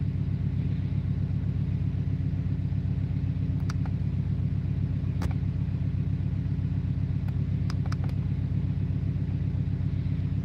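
A car engine at stock idle gives a steady low rumble close by, unchanging throughout, with a few brief faint clicks on top.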